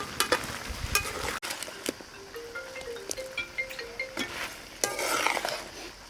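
Chicken and tomato pieces frying and being stirred in a pan for Pallipalayam chicken fry, cooked outdoors in a Tamil Nadu village, with scraping stirs and crackling sizzle, plus a few brief clatters of the utensil against the pan.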